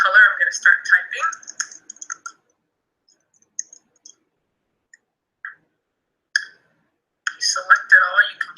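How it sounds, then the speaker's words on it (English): Typing on a computer keyboard in a rapid run of light clicks, a pause with a few isolated taps, then another quick burst; close and fairly clear. "So I pick my color, I'm gonna start typing."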